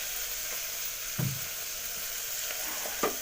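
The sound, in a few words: onions frying in a pan as mutton is added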